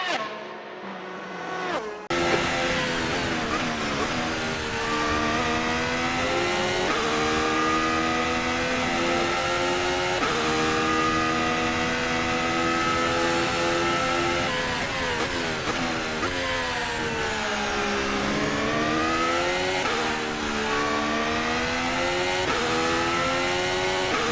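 Formula 1 cars racing at the Australian Grand Prix, a loud, continuous high-pitched engine whine that rises and falls with gear changes, starting after a brief muffled opening.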